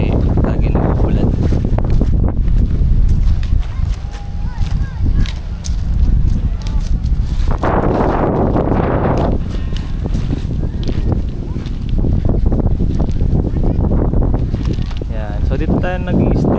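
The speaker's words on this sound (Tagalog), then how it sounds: "Malakas lang ang hangin ngayon kasi lagi nag-uulan." Strong wind at a rocky beach resort in Lobo, Batangas buffets the microphone in a loud, continuous roar with gusting swells, while a person talks over it.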